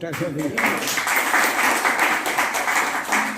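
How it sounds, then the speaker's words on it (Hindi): An indoor audience bursts into applause, dense clapping that starts after a brief voice and holds steady and fairly loud to the end. "तालियां बजाओ"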